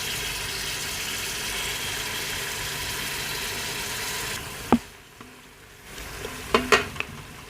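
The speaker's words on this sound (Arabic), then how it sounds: "راح نضيف البصل ونضيف الجزر مقطع مكعبات" Diced onions, carrots and garlic fry in a pot with a steady, broad sizzle for about four and a half seconds, then the sizzle drops away, leaving quieter crackles, a few clinks and light stirring knocks.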